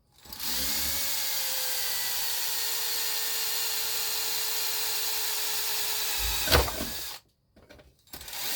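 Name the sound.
drilling holes with a power drill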